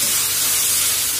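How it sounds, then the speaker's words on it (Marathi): Tomatoes sauté in a hot pan, giving a brief, loud, steady hiss of sizzling oil with no talk over it. "टोमॅटो घालून घेणार आहोत आपण आणि छान यालाही परतून घ्यायचं आहे आपल्याला"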